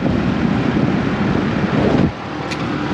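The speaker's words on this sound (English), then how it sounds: "It's windy as though." Strong wind in a dust storm buffets the microphone with a loud rumbling roar that drops off abruptly near the end, leaving a softer steady blow.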